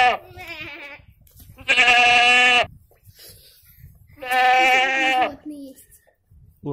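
A goat bleats in two long, loud wavering calls separated by pauses, with quieter voice-like sounds and people talking between them.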